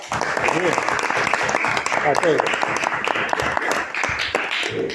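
Steady audience applause fills the hall at an event about the Macosa factory and its workers, dense clapping throughout with voices mixed into the crowd noise.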